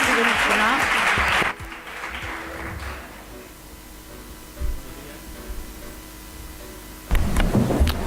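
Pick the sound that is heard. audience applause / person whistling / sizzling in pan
audience applause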